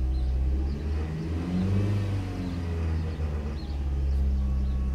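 A cheap used car's engine idles high with a steady, close, low rumbling hum that surges slightly and stays continuous under no talk.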